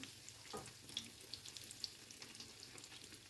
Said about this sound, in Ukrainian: Смажимо з цієї сторони.